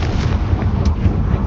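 Confringo spell blast in Hogwarts Legacy, a loud, dense roaring burst with crackling, sustained at full strength throughout with no talk.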